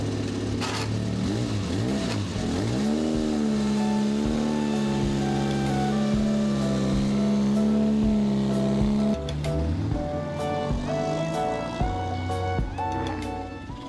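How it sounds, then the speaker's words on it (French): Vintage Aston Martin Le Mans racing cars from 1932 rev their engines on a circuit, a loud continuous roar with rising and falling pitch sweeps and throttle blips, engines overlapping throughout without speech. "Les pilotes ne se sont pas privés sur le circuit de faire rugir leurs moteurs venus d'une autre époque"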